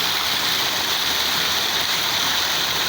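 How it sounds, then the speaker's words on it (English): Fountain water splashing and pouring steadily in downtown Calgary, a dense, continuous broadband rush that stays close and fairly loud without a break. "he has come to help you get the sound of water fountain"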